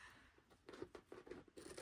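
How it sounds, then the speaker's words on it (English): Faint, quick snips of scissors cutting through fabric for a serger cover, several soft crunching cuts in a row, close and quiet. "I'm just going to use my scissors and cut, taking care not to cut the threads"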